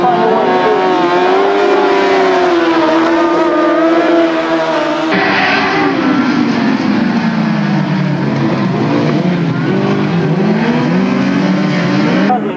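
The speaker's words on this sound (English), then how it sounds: "Cheatham might have found a way through as he's looking on the inside of Dave Steer." Race cars on a grasstrack circuit roar past at an international bonfire burnup meeting, their engines loud and sustained with rising and falling pitch as they pass close by.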